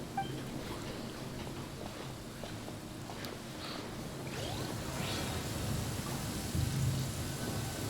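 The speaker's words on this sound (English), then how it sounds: "It's raining out here." Steady rain in Genshin Impact, a soft continuous hiss of falling drops with faint whooshes and occasional footsteps underneath, at moderate level throughout.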